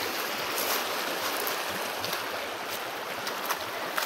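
The San Gabriel River flows through the mountains near Azusa, California, giving a steady, even rush of water throughout, with no voices.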